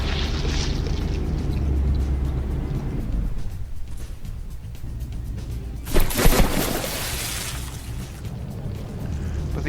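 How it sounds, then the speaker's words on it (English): Naval battleship shells exploding in the game From The Depths, a roaring, rumbling battle wash with a sharp, loud blast near the middle, no talk. "those shells are just doing some serious damage."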